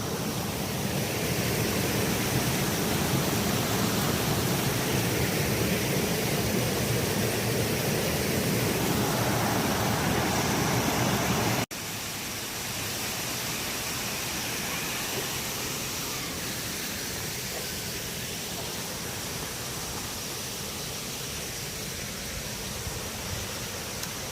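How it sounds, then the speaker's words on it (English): Steady broadband roar of Kuang Si waterfall near Luang Prabang, Laos, loud and continuous with no talk, dropping slightly in level partway through as if the listening position shifts. "I finished up here at this waterfall."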